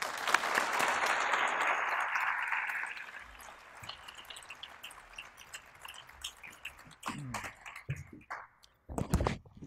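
An audience applauds to welcome speaker Miko Peled at a lecture event, with loud sustained clapping at the start that thins into scattered claps and then fades, followed by a few louder knocks and shuffles.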